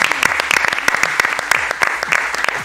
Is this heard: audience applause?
yes